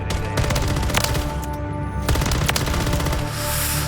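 Rapid automatic gunfire in the Modern Warfare 3 video game, loud dense bursts of repeated shots with brief pauses between, close and dominant throughout.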